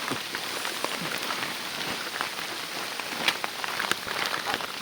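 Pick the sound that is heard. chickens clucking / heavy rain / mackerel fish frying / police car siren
heavy rain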